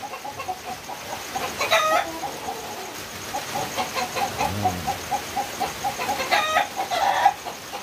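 A Sweater Gilmore battle cross game chicken clucks in short repeated bursts, with a few louder squawks at close range over a quiet farm background.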